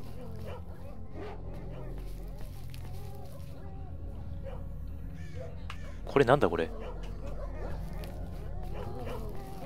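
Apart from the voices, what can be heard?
dogs barking in video game S.T.A.L.K.E.R. Shadow of Chernobyl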